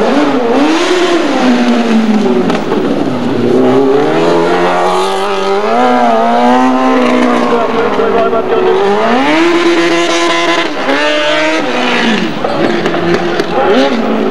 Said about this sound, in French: Et on voit comme ça pousse ce moteur.